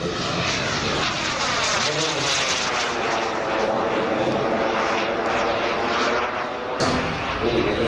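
A loud jet engine roars steadily throughout as a giant 1/5 scale radio-controlled English Electric Lightning F2A model jet flies past at Weston Park, with a sharp knock near the end.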